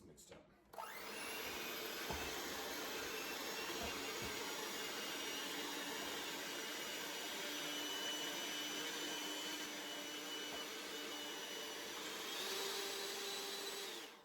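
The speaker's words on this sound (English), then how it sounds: "let's get that blended. It's got this little whisk attachment, which I really like. This might get a little loud." A loud, steady whine of an electric mixer with a whisk attachment blending eggs, running continuously for over ten seconds, starting abruptly and holding an even motor drone.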